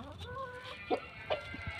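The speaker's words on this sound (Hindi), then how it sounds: "बहुत ही प्यारा मुर्गा है और मस्त है काफ़ी ये" A desi rooster gives a few short, soft clucks against a quiet farmyard background, with two brief, slightly louder calls standing out.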